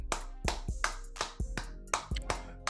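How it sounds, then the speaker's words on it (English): A handful of sharp, close hand claps spaced irregularly, each a crisp isolated snap standing out from near silence. "hand clap of praise, brother"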